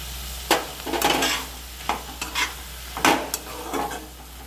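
Chicken stir-frying in a pan with soy sauce, soft sizzling under bursts of spatula scraping and stirring at irregular intervals, close up and with no voices.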